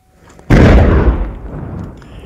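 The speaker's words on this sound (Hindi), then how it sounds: "दूसरी तस्वीर जहां पर जो हैंड ग्रेनेड बरामद किए गए थे उसे नष्ट किया गया है।" Recovered hand grenades are destroyed in a controlled blast among rocks in a hillside search area: one sudden, loud explosion with a deep boom that rolls on and slowly fades, heard alone.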